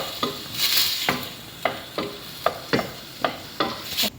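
Squid sizzles in a hot pan seasoned with black pepper while a utensil scrapes and stirs at a steady, regular beat, about ten sharp strokes over a constant frying hiss.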